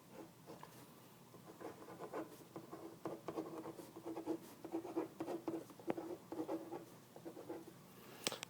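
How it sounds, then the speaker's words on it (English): Marker or chalk scratches across a board in short bursts, with quiet rubbing strokes and taps forming an irregular rhythm of writing, close and fairly soft with no speech. "so I'm just going to write them right here"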